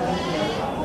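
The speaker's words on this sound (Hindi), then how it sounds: "ओह माय गॉड, हर जगह बकरा ही बकरा है।" Goats bleating in a busy livestock market, a dense wavering cry under crowd noise and voices in a brief burst.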